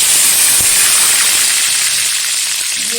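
Ground onion paste hits hot oil in a pan for a chicken kasha curry and sets off a loud, continuous hissing sizzle that holds steady throughout with no voices.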